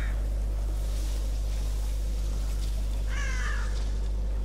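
Crow caws from the horror game The Evil Within, a harsh call at the start and a louder, clearer rasping caw near the end over a constant low hum and hiss, with no talking.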